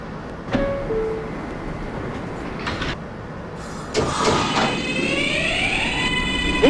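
A New York subway J train in the OpenBVE simulator, Brooklyn-bound near Woodhaven Boulevard, gives a short two-tone door chime, then the doors slide shut and the train departs with a rising whine of electric traction motors, moderately loud.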